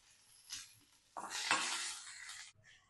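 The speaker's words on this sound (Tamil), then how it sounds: "இப்போது இந்த பச்சை மிளகாயை இதில் போட்டுடணுங்க." Green chillies drop into hot oil in a pan while onion chutney is cooked, with a brief stir at first and then a loud burst of sizzling that holds for about a second before cutting off.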